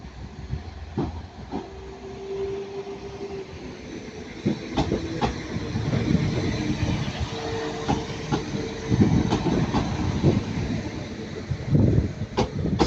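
A train pulling out of Manchester Piccadilly station, heavy rumble and clickety-clack building over the clip with hissing air and a brief high tone, fairly close and without talk.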